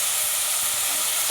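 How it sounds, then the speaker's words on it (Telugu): Onions sizzling in a pan with a little salt, a steady close hiss of frying with no talk over it. "ఆనియన్స్ మగ్గుతున్నాయి కదా"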